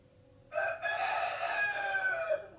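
A pet rooster crows once, a single close, clear cock-a-doodle-doo rising abruptly and holding for about two seconds against a quiet background.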